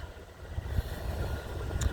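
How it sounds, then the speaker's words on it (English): Via passenger trains meet at Fallowfield Station, westbound and eastbound: a faint, steady low rumble from a distance with no voices. "We had a Via train meet."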